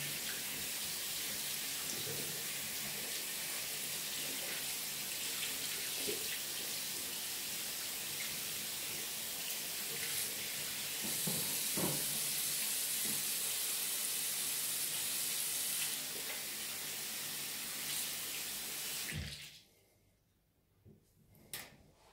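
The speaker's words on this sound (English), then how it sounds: "So I just gotta wash them off my hands for a really quick while." Water runs from a tap in a steady, hissing rush while hands are washed, continuing for about nineteen seconds before it cuts off. A few small clunks follow in the quiet.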